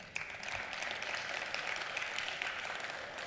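A university convocation audience claps together in a moderate, even wash of applause, steady throughout with no voices over it.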